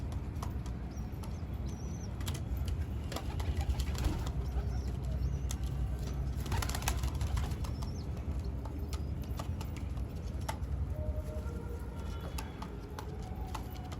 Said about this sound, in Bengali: দিয়েছি পায়রাকে, খাচ্ছে এক এক করে।